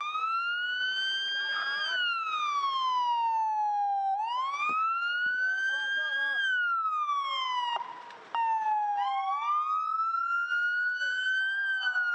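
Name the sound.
sirens sounding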